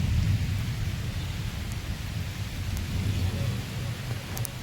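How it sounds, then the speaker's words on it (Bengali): Heavy rain pours steadily with a deep rumble of thunder underneath, a dense continuous roar close by with no voices. "দেখুন এই সাইডে কি বাবা প্রচণ্ড বৃষ্টি"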